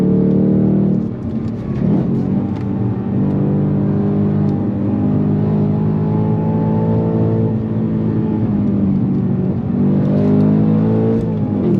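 A 2024 Ford Mustang GT V8 pulls hard through the gears, its loud, close engine note climbing in pitch with a brief dip at a shift and another rising sweep near the end.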